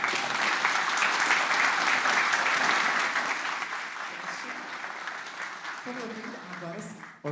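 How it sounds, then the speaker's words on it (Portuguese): An audience at a credit union's annual general assembly breaks into sustained applause, loud at first and gradually easing, with a voice starting to speak near the end. "Peço uma salva de palmas para a Silvia."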